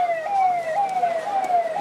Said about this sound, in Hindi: एम्बुलेंस को साइड दे दो